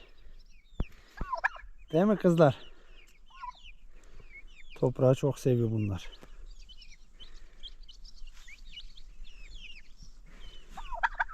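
Turkeys lying in the dirt gobble loudly in two bursts, with softer chirps and clucks from other fowl around them, and a person speaking briefly.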